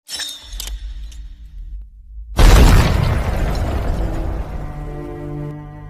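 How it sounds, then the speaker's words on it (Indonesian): A grenade blast from the film Uri: The Surgical Strike hits as a sudden loud boom with a shattering crash, then a long roaring rumble and debris fading under swelling music, after a quieter tense lead-in. "Karan malahan mengambil senjata si Gondrong yang membuat pin granat tertarik dan duar"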